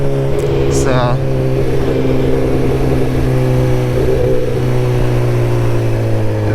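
A Suzuki GSX-R1000R motorcycle engine drones steadily on a morning commute, a loud continuous hum that rises slightly as it accelerates, with someone talking over it throughout.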